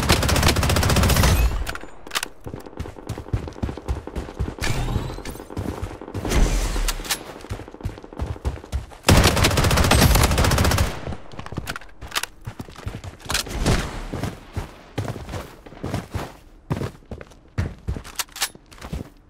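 Heavy gunfire in Blood Strike, with rapid automatic bursts and single shots coming close and loud in long stretches, broken by short pauses and footsteps.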